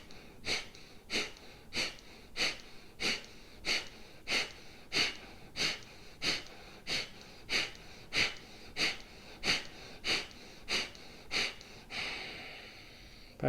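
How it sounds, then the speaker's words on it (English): Rapid, forceful rhythmic breaths from an energizing yoga breathing exercise, about fifteen sharp snorting exhales at a steady fast pace, close and loud, ending in a long exhale. "But this is an energizing kind of breath."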